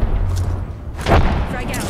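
A frag grenade detonates in Apex Legends as a deep boom about midway, set against low rumbling game ambience and bursts of gunfire.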